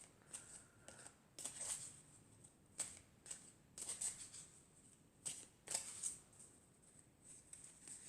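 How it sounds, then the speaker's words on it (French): Oracle cards shuffled and drawn from an elf oracle deck, heard as a series of soft, close papery riffles and slaps in irregular bursts with quiet pauses between, no voice. "je vais prendre une carte de l'oracle des elfes"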